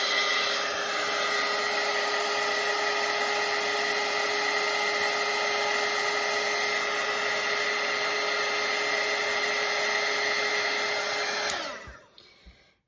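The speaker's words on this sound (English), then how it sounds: "I'm going to dry this now" A hair dryer blows steadily and loudly over a watercolor lighthouse coastal painting, a continuous whirring rush that runs unbroken before cutting off and winding down at the end, with no talking.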